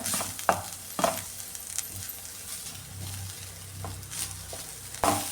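Grated coconut frying in a pan with vegetables crackles in a steady sizzle, broken by sharp clinks and scrapes of a spoon stirring at irregular intervals, close by with no talk.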